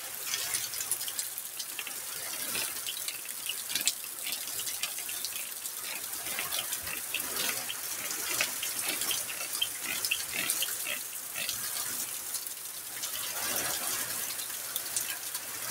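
Heavy rain pours steadily during a storm at a house, a dense, even hiss with scattered patters and no other sounds standing out.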